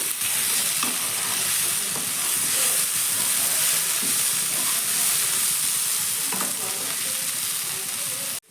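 Steady, loud sizzling of cauliflower frying in a pan with green chilli, a spatula scraping and stirring at irregular moments throughout, no talking.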